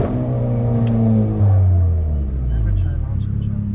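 Hyundai Veloster N with a dual-clutch transmission revving and accelerating, a loud close engine drone that climbs and shifts over a few seconds, with a voice briefly heard inside the cabin.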